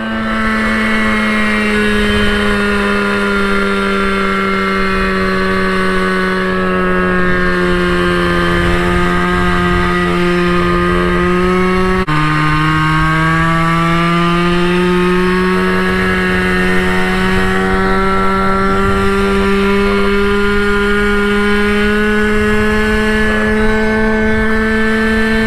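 A Goped GTR scooter's two-stroke motor drones continuously at high revs, its buzzing pitch sagging and recovering with a brief drop partway through, loud and close with wind noise.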